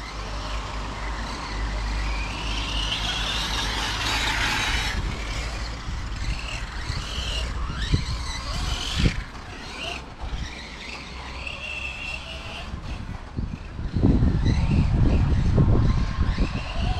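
Losi DB10 Pro 1/10-scale RC desert buggy running on a 2S battery at a club track, its high electric motor whine rising and falling as it passes, with a louder, rougher burst of driving near the end amid outdoor ambience.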